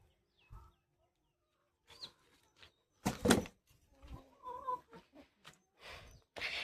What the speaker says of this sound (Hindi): आंटी ने खोल रखी है मुर्गियाँ।